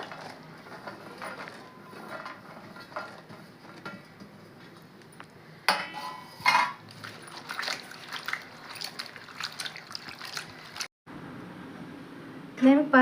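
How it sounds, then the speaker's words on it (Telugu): Cluster beans being washed in water in a home kitchen, with soft splashing, trickling and occasional clinks from a vessel, mostly faint beneath someone speaking. "వాటర్ వేసి కడగాలండి బాగా శుభ్రంగా కడిగి పెట్టుకోవాలా"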